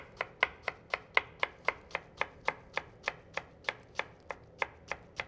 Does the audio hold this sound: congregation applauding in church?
no